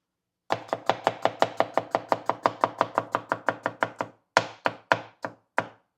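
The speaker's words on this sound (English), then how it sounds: "I think there's nothing more satisfying than chopping a cucumber." Rapid, steady knife chops through a cucumber on a cutting board, crisp and close, slowing to a few separate strokes at the end; no talking.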